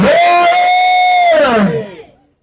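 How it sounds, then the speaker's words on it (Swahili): Rally crowd cheering and ululating in response to a call, a loud sustained high wavering ululation with a dense mass of voices, fading out after about two seconds. "Piga shangwe vigege!"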